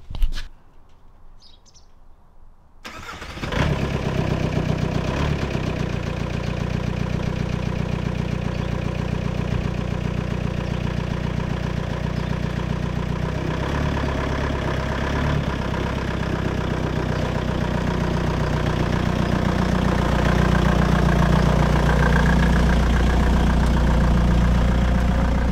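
A van engine rumbles steadily at idle on a cold day, starting after a brief quiet moment and holding a continuous, close, low drone for over twenty seconds with no talk.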